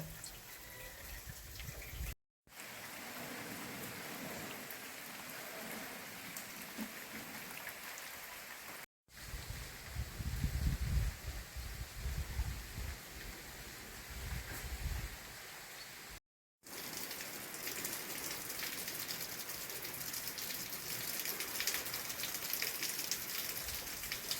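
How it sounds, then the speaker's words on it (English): Steady rain falls on a permaculture vegetable garden as a dense, continuous hiss of drops on surfaces, heavier patches sounding wetter and closer. It is broken by a few brief silent gaps, and there is no talking. "It's raining!"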